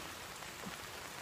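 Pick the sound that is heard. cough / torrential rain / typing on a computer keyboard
torrential rain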